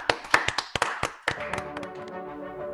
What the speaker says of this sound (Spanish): Démosle un aplauso a nuestra compañera.